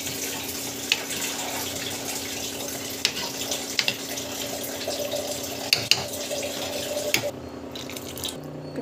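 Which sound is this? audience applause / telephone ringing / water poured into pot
water poured into pot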